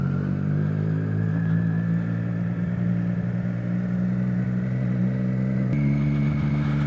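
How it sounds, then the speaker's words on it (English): A Triumph Street Triple motorcycle fitted with a LeoVince LV One exhaust gives a steady, loud engine drone with a deep tone that holds evenly and shifts slightly in pitch near the end. "Lovely sound on this bike, though."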